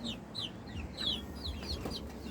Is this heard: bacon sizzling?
no